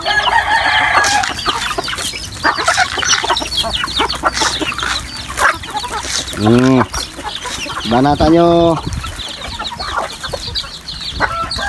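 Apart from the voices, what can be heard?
chickens clucking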